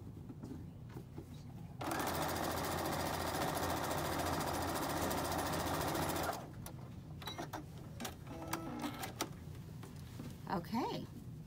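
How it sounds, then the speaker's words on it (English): A sewing machine stitches a bow-tie quilt block seam in one loud, steady, close run of about four and a half seconds, with quieter handling noises and faint talk before and after. "You're going to now take it and stitch along that side."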